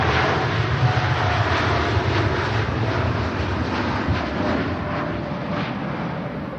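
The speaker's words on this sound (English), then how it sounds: "Nice departure from the TUI." A TUI airliner departs Manchester Airport with a continuous, deep jet-engine roar that stays strong and gradually eases, with no talk over it.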